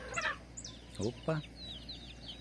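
A chicken gives a few short, close clucks and squawks in quick bursts as it jumps, on a farm near a cattle corral, with a quiet background.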